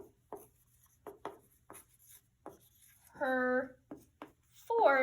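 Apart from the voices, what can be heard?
writing with a pencil on paper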